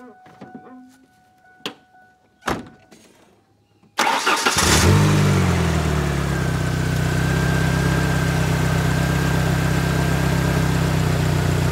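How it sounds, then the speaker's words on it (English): A Ford Ranger pickup engine cranks and catches after a few clicks and knocks, then settles into a steady, loud, close idle with a rising whine as it runs on. "Because I want to start the motor and see how it's running"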